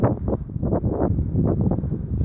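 Steady wind blowing across the microphone, a low continuous rumble with gusty swells throughout and no voices.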